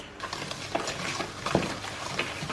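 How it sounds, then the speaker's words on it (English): Cake batter with sugar and vanilla extract is whisked in a bowl, with a busy run of soft scraping and tapping strokes, close and moderately quiet, with no talk. "So now we're going to whisk."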